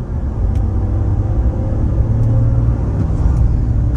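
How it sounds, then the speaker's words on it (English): Twin-turbo engine of a lifted Toyota Tundra Platinum pickup under light throttle, a loud, steady low rumble with a slight rise as the turbos spool, heard close and without talk. "just giving it a little bit of throttle, like the turbos, they just spool up real quick"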